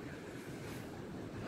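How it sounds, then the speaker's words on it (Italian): Fresh outdoor wind rumbles and buffets against the microphone, a continuous low, faint roar with no voices. "Questo bel vento fresco."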